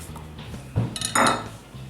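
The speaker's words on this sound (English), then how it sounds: "Let's cut 1 more lime here." A knife slicing through a fresh lime on a cutting board, with a couple of quick, close cuts and a brief louder chop near the middle.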